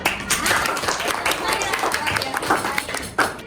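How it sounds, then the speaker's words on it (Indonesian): A class claps in a dense burst of applause during a teaching practice lesson, staying steady for a few seconds with sharp crackling hand claps throughout. "Oke, tepuk tangan."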